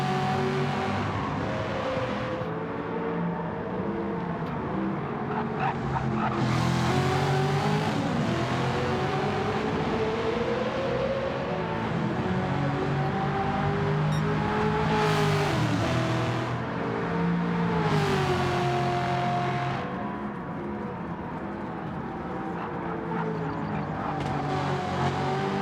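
Race cars in the video game Gran Turismo 7 during an endurance race, engines droning and rising and falling in pitch through gear changes, with cars whooshing past now and then, continuous and loud, no talking.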